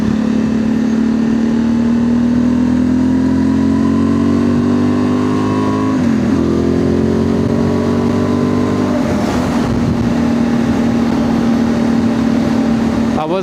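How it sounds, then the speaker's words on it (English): A 2025 Honda Transalp motorcycle fitted with a Dominator MX2 slip-on exhaust runs steadily and loudly close by. The engine tone drifts slightly, with brief throttle blips around the middle and later. "this Dominator exhaust, to me, it sounds exactly like the OEM exhaust,"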